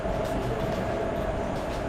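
Kollam–Madurai passenger train running, a steady loud rumble of wheels and carriage noise heard from onboard, continuous throughout with no talk.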